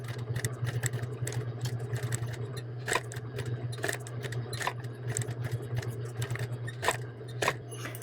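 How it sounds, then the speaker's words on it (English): A sewing machine edge stitching felt on a frog hooded towel, its motor humming steadily up close while the needle chatters in a rapid run, broken by a few louder clicks and short pauses. "I'm going to put mine under the machine and I'm going to edge stitch around the black"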